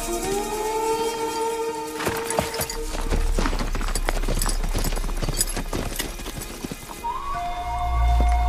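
Horses clip-clop in an outdoor film scene, a steady rhythm of hoofbeats under a rising siren-like wail and a low droning rumble, moderately loud.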